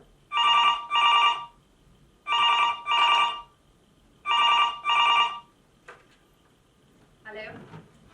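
An indoor telephone rings in three pairs of bright electronic bursts with short pauses between them, followed by a faint click and a brief voice at the end.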